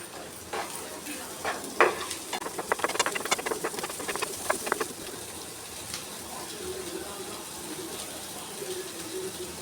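Chopped capsicum stir-fries in a pan, a soft hiss of sizzling with a burst of quick spatula scrapes and patters in the middle, fairly quiet and close, with some faint background noise.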